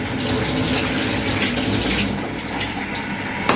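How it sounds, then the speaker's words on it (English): Tap water runs steadily into a container while sunflower microgreen seeds are rinsed, a close, rushing splash that stays constant and ends with a small clatter, with no voices. "we're going to rinse it and separate any of the plant sticks or stems or non-useful stuff"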